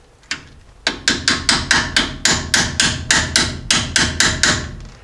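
A hammer drives a caliper onto the front brake bracket of a Jeep J10 in a steady series of about fifteen sharp metallic blows with ringing decay, close and loud, with no talk.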